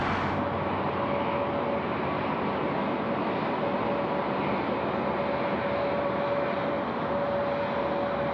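A jet aircraft roars steadily at night at Sydney Airport, a broad, continuous engine rumble with a faint whine running throughout, loud and unbroken with no voices.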